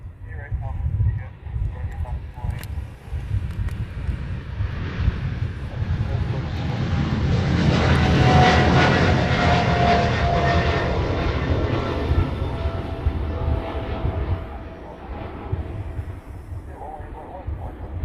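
A heavy aircraft takes off during the Sentry Aloha exercise in Hawaii, a long, loud engine roar that swells to a peak midway, holds, and then slowly fades, with radio chatter heard under it.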